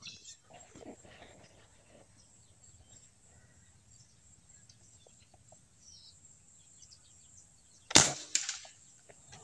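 A single sharp air gun shot rings out near the end after several seconds of quiet, low background noise.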